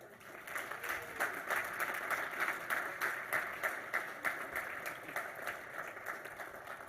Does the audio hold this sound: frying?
no